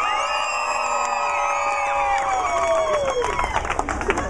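A crowd at a pumpkin pie eating contest during the 2013 Pumpkinfest cheers, whoops and claps in a loud, sustained swell that rises toward the end, with excited voices shouting over the applause.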